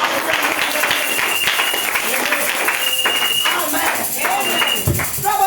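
A church congregation claps and cheers steadily throughout, a dense continuous wash of applause with voices and shouts mixed in during a Sunday service.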